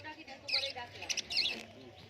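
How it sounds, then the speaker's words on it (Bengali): Several colourful budgerigars chirping in a seller's cage setup: a few quiet, high warbling calls in short bursts, close but soft, over faint background noise. "খুব সুন্দর সুন্দর অনেকগুলো বদ্রি পাখি রয়েছে"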